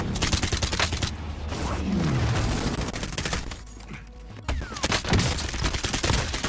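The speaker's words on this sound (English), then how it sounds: "Again, I used that hipfire to my advantage." Rapid hipfire bursts from a weapon in the Warzone video game crackle loudly and densely, with overlapping shots, brief pauses and metallic game effects throughout.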